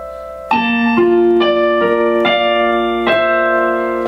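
A piano slowly plays a passage from a song as seven or eight distinct chords struck one after another at an even, unhurried pace, each ringing into the next, close and clean with no voice.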